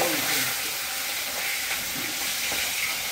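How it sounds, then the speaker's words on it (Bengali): Pieces of katla fish fry in hot oil in a Bengali home kitchen, giving a steady, dense sizzle and crackle close by. The frying stays even and continuous, with no voices. "ও বাবা, আস্তে আস্তে মাছ ভাজা"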